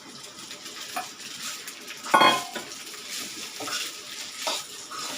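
Leftover cooked rice being stirred and mixed in a frying pan over a low flame, giving soft scraping and gentle sizzling with one louder clatter of spoon against pan partway through.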